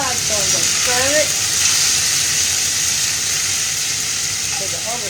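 Meat browns in a frying pan on a home stove, giving a loud, steady hiss and crackle throughout, with a few faint voice-like chirps at the start.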